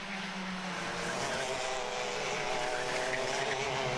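Racing karts in a Club100 event at Whilton Mill run at near full throttle, a loud, continuous engine drone that stays close and steady throughout.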